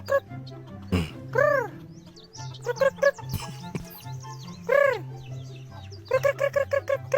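Chickens cluck and squawk in short rising calls during a prank with thrown stones, several birds near the microphone, with bursts of clucking spread across the scene and a quick run of clucks at the end, a voice heard briefly.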